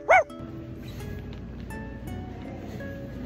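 A person imitates a dog with a single short, loud bark-like yelp, followed by quiet background noise.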